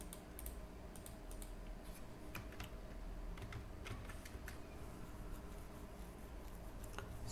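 Keystrokes on a computer keyboard while a command is typed on an Ubuntu Linux machine, a faint run of irregular clicks over steady low background hum.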